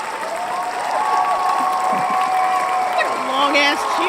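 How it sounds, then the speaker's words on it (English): An audience applauds and cheers in a sustained standing ovation, a continuous crowd roar under tonal music-like lines and a voice talking over it. "That is a standing ovation."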